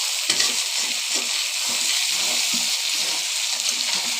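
Chicken frying in a pan with a steady sizzle and repeated scraping stirs at a regular rhythm, close and fairly loud, with no talking.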